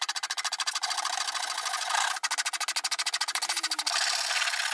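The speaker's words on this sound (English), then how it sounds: "I used a large rasp to flatten one of the sides so that I could draw the shape of the slingshot on" Large rasp worked in rapid back-and-forth strokes across the side of a natural oak slingshot blank, flattening the wood; a dense, steady scraping rhythm, close and loud, with a short pause midway and no talk.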